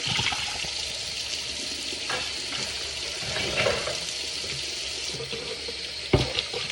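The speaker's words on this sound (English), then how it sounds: "I know I kept the water running" Kitchen tap running continuously into a sink while dishes are washed, a steady close hiss of water with occasional clinks and splashes.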